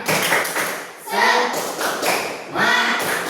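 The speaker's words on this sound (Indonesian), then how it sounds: "Tepuk semangat." A group performs the 'tepuk semangat' clapping chant, with loud, rhythmic bursts of hand claps and taps in clustered patterns. Voices chant along in unison between and over the claps.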